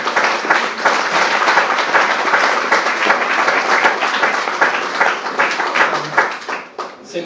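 A church congregation applauds steadily and loudly throughout, dense clapping from many hands with crowd murmur mixed in, tapering slightly near the end.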